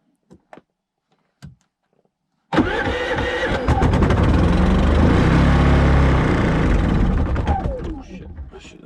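A generator at an off-grid cabin is cranked in winter cold and starts. A few brief knocks come first, then the engine catches and runs loud and close with a rough, revving roar before it begins to fade.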